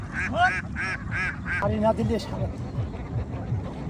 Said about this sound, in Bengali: কতগুলো হাঁস